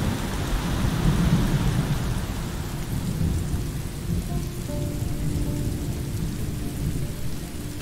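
Steady rain hisses heavily in the Road 96 video game, with low, rolling thunder rumbling underneath, a continuous dense storm with no talking.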